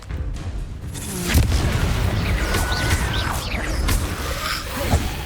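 Explosive blasting-curse booms in a Hogwarts Legacy duel, a loud sustained rumble of crashing impacts and debris with sharp bursts throughout.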